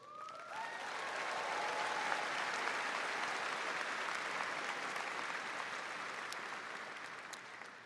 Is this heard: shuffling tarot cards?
no